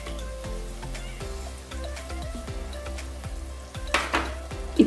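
Curd hitting a hot pan of tomato mixture with green chillies for egg biryani, a steady close sizzle with utensil clinks and a sharper burst of spattering near the end, all under background music.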